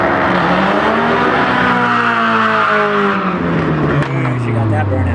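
A drag racing car does a burnout, its engine roaring loudly and steadily as the tires squeal and the pitch sweeps. A voice talks over the noise.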